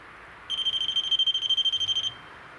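An electronic ghost-hunting pod device lets out a shrill, high beeping tone that pulses rapidly for about a second and a half, close and clear in a quiet room.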